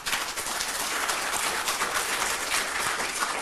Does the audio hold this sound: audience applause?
yes